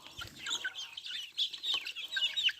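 Chickens clucking and chirping close by, a busy overlapping flock sound with no talking.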